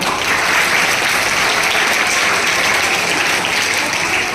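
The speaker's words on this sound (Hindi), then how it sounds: "तो खुद के लिए जोरदार तालियां।" Loud, dense applause from a crowd of schoolgirl students at a school event fills the space steadily, an even roar of many hands clapping without letup.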